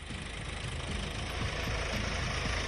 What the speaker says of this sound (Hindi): ट्रैक्टर चल रही है